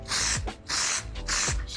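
Spray adhesive hissing onto the underside of a Jeep Cherokee XJ headliner, applied from a few inches away in three short, loud bursts with brief pauses between them.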